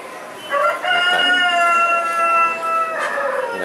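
A rooster crows loudly and close at a chicken stall in a morning market in Gangtok, Sikkim, with one long drawn-out call and a second starting at the end, over quiet background.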